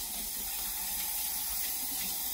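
Kitchen tap water runs steadily for a quick rinse while homemade pizza is prepared, a continuous close hissing stream with no talk over it.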